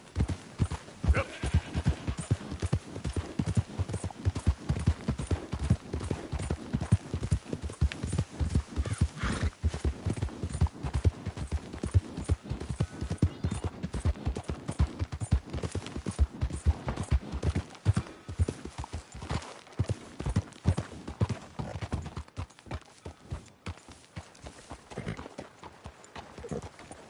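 A horse's hooves clip-clopping steadily in the video game Red Dead Redemption 2, a fast continuous rhythmic patter close by for the whole stretch, with occasional faint speech.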